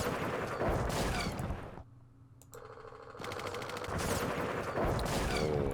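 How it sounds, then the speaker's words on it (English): In the Vietnam War strategy game Campaign Series Vietnam, loud bursts of machine gun fire rattle in a dense fusillade, broken by a short quieter pause before the firing resumes. "let's use our machine guns first"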